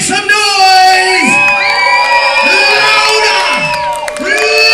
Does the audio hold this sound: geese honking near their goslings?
no